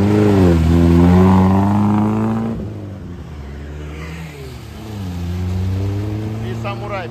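A loud off-road trophy-class competition car engine revs and drones, dipping briefly before rising again as the car pulls away on a mud track, with voices talking faintly over it.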